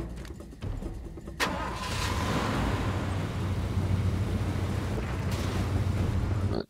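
A car engine in the video game Far Cry 2 cranks and starts after a click, then settles into a steady idle hum that continues without talk.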